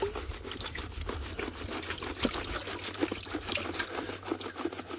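Water sloshes quietly in a gold pan rocked side to side while prospecting, giving a soft, continuous, irregular swishing and trickling with small splashes.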